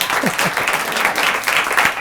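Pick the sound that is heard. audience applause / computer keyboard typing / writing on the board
audience applause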